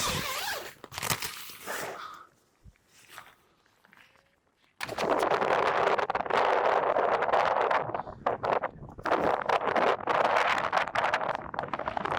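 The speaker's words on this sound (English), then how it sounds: "as you might be able to tell, it's a tad windy" Strong wind buffets the microphone in loud, sustained gusts on Dartmoor, with a quieter stretch of scuffing and rustling before the gusts take over.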